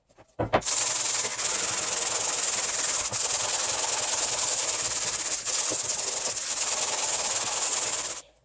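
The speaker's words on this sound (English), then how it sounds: "You need to sand, in this case, from the right to the left, just so that the result in the end will actually look nice." Steady, continuous abrasive rasping of sandpaper worked across the surface of a recorder being refurbished, loud and close with a hissy texture, starting abruptly and stopping near the end, with no talk.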